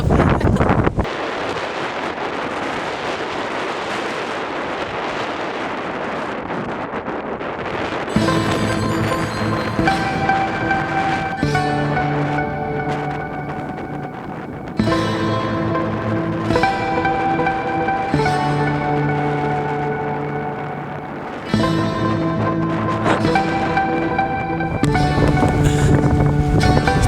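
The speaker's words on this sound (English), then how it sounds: "Too windy." Strong wind roars and buffets the microphone for several seconds while mountain biking in Lofoten, then gives way to gusty blowing mixed with steady ringing tones.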